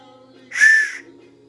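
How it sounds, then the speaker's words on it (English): A single short, shrill toy train whistle toot sounds once, about half a second long, clear and close against a quiet background. "It's a train whistle."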